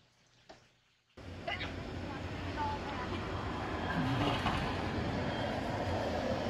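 A train rumbles past nearby at Disney's Fort Wilderness, a steady loud roar with rattling that swells and holds, after a brief quiet moment at the start.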